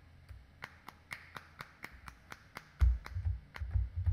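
A sampled hand clap triggered from a MIDI keyboard pad repeats in a steady rhythm, crisp dry claps roughly every quarter second, followed by low thumping bass hits toward the end.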